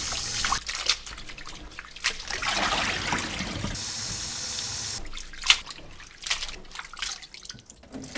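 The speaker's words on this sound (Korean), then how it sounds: "물에 2번 정도 깨끗이 헹궈서" Julienned vegetables get rinsed in water in a kitchen, with running and splashing water, drips and sloshing in bursts that are close and moderately loud, plus brief pauses between rinses.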